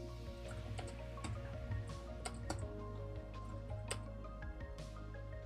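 Someone types on a computer keyboard while programming, irregular clusters of key clicks and taps with short pauses between bursts, close and fairly quiet, no voices.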